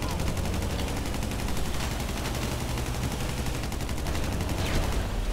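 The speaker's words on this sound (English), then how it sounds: "Nick, I need you to start shooting these people back here." Rapid, continuous gunfire from the video game Grand Theft Auto 5, a dense automatic barrage that stays loud and steady for several seconds with no clear pauses.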